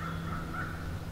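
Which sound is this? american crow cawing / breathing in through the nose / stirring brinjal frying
american crow cawing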